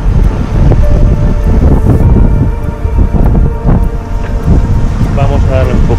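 Strong wind roars over a sailboat out in the Gulf of Lion on the Mediterranean, buffeting loudly and continuously with gusty rumbles and faint creaks of the boat beneath it.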